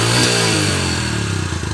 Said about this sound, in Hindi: देखें बाइक स्टार्ट हो गया